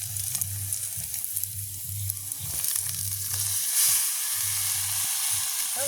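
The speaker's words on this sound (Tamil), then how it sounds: "அதோட நாங்கள் இது முள்ளங்கியை கொட்டி வதக்குவோம்." Radish tipped onto softened onions and chillies sizzles in a pan over a wood fire, a continuous hiss with a low rumbling undertone from the flames.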